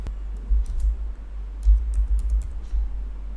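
Password keys tapped on a computer keyboard while filling out an online job application form, a quick run of soft clicks in short bursts over a low steady hum, no talking.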